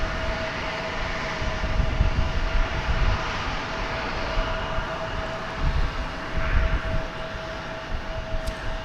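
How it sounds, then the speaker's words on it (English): Airliner operating flight 2335 from Albuquerque roars past at DFW Airport in early-morning darkness, a sustained broadband engine rumble with a steady whine, swelling and easing slightly throughout. "That was flight 2335 from Albuquerque"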